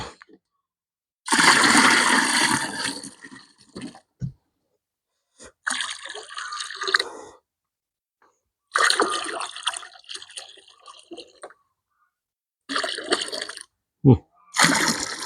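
A watering can pours EM microbial solution onto a compost pile in a few splashing bursts separated by short pauses, close and fairly loud.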